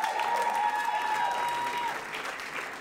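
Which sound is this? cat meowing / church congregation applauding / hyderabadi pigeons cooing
church congregation applauding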